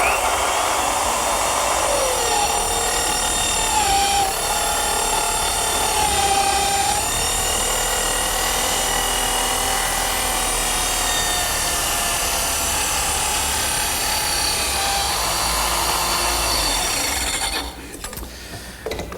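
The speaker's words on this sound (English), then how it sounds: "I'll loosen the depth control knob and carefully plunge the saw blade through the work" Plunge circular saw cutting through chestnut wood, a loud, sustained high whine with steady rasping as the blade runs through the board, ending abruptly near the close.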